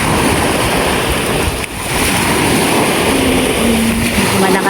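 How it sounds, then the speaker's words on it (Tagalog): Strong ocean waves and surf near fishing boats launching at sea, a loud continuous wash of water mixed with wind buffeting the microphone and a faint engine tone toward the end. "Malakas yung alon."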